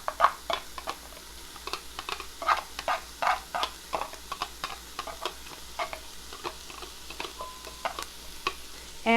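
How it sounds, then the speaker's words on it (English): Minced ginger and fresh garlic are stirred into caramelized onions in a pan for a lentil sweet potato curry soup, giving a soft sizzle under repeated scraping, tapping strokes of a utensil, close and fairly loud, with no voices. "we're going to saute it in here for about 30 seconds"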